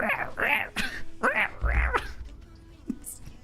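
A human voice imitating a crow for a character in the video game Love and Deepspace, giving a few short nasal caws in quick succession that fade away into quiet.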